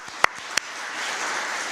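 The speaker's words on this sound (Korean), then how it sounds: "大きな拍手で祝福しましょう。" A church congregation at a Sunday worship service breaks into applause: a couple of sharp, isolated claps first, then steady, dense clapping that fills the hall and swells slightly toward the end, with no voices over it.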